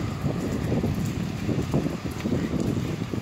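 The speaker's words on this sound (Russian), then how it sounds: "Потому что опять, как я понимаю, начинается дождь." Rain beginning to fall outdoors on a spring day, a steady soft patter with gusty wind noise over the microphone, continuous and fairly close, with no voices.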